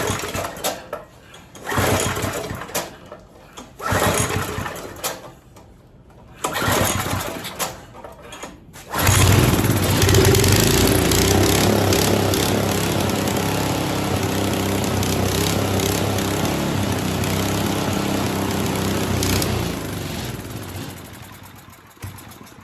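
An old tiller engine at about half throttle, first sputtering in short bursts, then catching into a loud, steady buzzing drone up close that holds for the rest of the clip.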